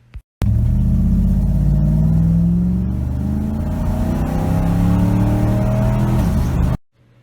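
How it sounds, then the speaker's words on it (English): A Ford F-150 pickup truck engine roars loudly up close, revving higher as it accelerates from 0 to 60 on 3.55 axle gears, the pitch climbing steadily before cutting off abruptly. "The acceleration improves significantly as the truck gets into its power band"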